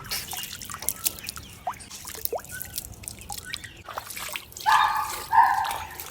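Water poured over a pigeon's head, with scattered drips and trickles followed by a steadier splashing pour near the end, no talking.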